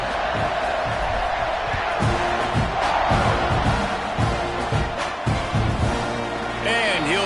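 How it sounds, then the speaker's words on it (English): A football stadium crowd buzzes and roars steadily after a score during a Gators game, a dense wash of cheering and shouting that never lets up, with a whistle-like tone near the end. "this crowd is buzzing after that last score"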